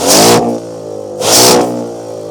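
A 2025 Ford Mustang GT, parked in silent exhaust mode, revs twice in quick blips, its muted V8 rising and falling between a steady idle, close and clear.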